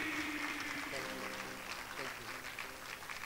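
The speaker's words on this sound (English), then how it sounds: "Ladies and gentlemen, please, big round of applause." An audience at a media conference applauds in a steady, moderate wash of clapping, with voices talking faintly beneath it.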